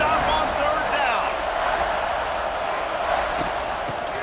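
Dense roar of a stadium crowd at Jordan-Hare Stadium in College Football 26, Texas Tech against Auburn, loud and sustained with scattered whoops and cheers, steady throughout under a continuous wash of noise.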